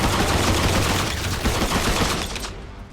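Sustained rapid automatic gunfire from a gun emptying its whole magazine in the video game Stalker: a dense, continuous burst of shots at close range that cuts off near the end.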